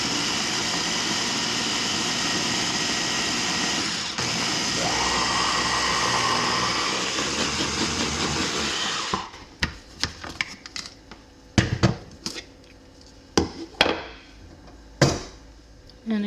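A countertop blender whirring steadily through garlic scape pesto for several seconds, then cutting off and leaving scattered clicks and knocks of handling.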